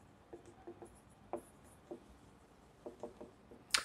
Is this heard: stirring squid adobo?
no